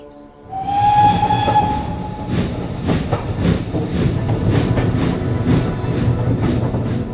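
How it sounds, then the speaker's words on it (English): Steam train on the Goathland Steam Railway in Yorkshire blows a loud whistle, then chuffs in a steady rhythmic beat of puffs over a heavy rumble, close and prominent. "We pass the Goathland Steam Railway in Yorkshire"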